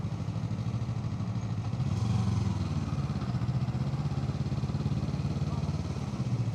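Motorcycle on a ride through Putrajaya and Melaka, its steady mid-pitched engine drone rumbling continuously and close, with brief surges and clatter but no talk.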